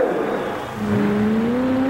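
A pulling truck on the Orange Blossom Special engine revs hard, its pitch dipping and then climbing again as the driver shifts to high side out of the gate, loud and steady under background crowd noise.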